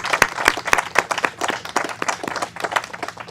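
A small audience at an official event in southern Ontario gives a round of applause, with sparse, close individual hand claps in an irregular patter over a few seconds.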